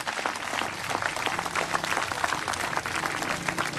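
A New Zealand crowd at a 1983 World's Strongest Man event applauding steadily, dense sustained clapping throughout with no pauses.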